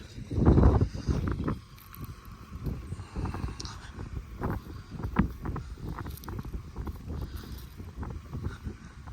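Strong wind buffeting the microphone in a wheat field during fertilizing with an MTZ-892.2 tractor, producing heavy low rumbling gusts and thumps that rise and fall throughout.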